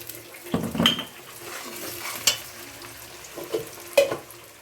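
Onions fried until reddish-brown with a pinch of chili powder added sizzle softly in a pan, broken by several clinks and scrapes of a utensil against the metal, with no talking.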